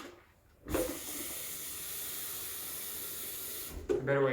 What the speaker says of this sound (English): Hot water spout if you want it.